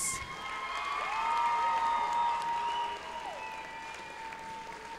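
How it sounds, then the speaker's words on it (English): A crowd at a 2015 FIRST robotics awards ceremony applauds warmly with steady clapping and some cheering, swelling for a few seconds before gradually tapering off. "Please give one last round of applause to the finalists."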